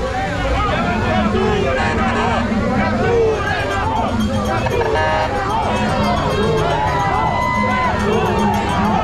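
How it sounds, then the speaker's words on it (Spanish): Loud, dense crowd shouting and cheering at a street gathering, with overlapping voices and babble that stay steady and close throughout. "La gente se encuentra gritando capturen a ho."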